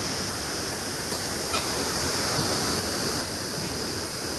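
Water poured from a mug into a large bucket during a hydrotherapy session, a steady broad splashing rush that runs continuously and fairly loud throughout.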